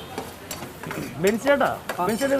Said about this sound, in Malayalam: ആദ്യം തന്നെ നമ്മള് സവോളയും പച്ചമുളകൊക്കെ ഇട്ട് നന്നായിട്ടൊന്ന് എണ്ണയിലൊന്ന് വഴറ്റിയെടുക്കുക